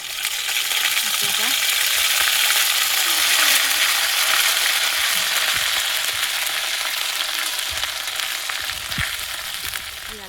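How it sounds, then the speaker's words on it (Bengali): Loud, steady sizzling of a ginger, chili and cumin paste frying in hot oil in a clay wok outdoors, a continuous hiss with occasional soft stirring sounds, no voices. "লঙ্কা জিরে বাটা দিয়ে দিলাম"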